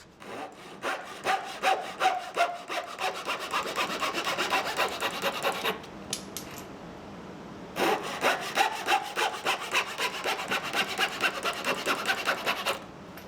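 Table saw cutting spline slots into the corners of a small wooden box for 1/4 inch walnut splines: two loud rasping cuts, each several seconds long, separated by a short quiet gap, close by.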